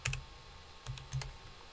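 Keyboard typing in a few short bursts of clicks with pauses between, fairly close and alone, with a low thump under some keystrokes.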